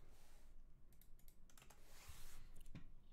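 A search is typed on a computer keyboard in quick runs of soft, light key clicks, quiet and close with no voices.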